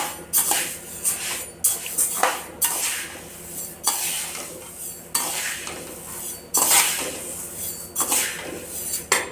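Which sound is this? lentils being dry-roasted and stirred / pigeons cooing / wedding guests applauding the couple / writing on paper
lentils being dry-roasted and stirred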